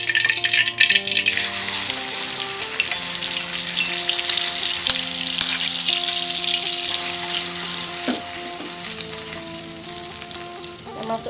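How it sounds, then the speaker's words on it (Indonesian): Spice paste sautéing in hot oil for a cassava leaf curry crackles and sizzles loudly at first, then settles into a steadier, gradually softening fry with light stirring. "setelah panas kita tumis bumbunya."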